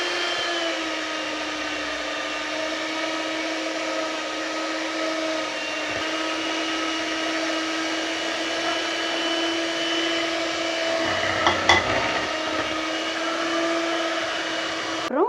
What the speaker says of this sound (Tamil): எக்கு 1 by 1 ஊற்றி பீட் பண்ணணும்.